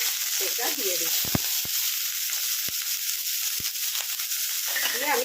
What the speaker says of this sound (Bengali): দিয়ে আমি পেঁয়াজটাকে একটু ভেজে নিচ্ছি।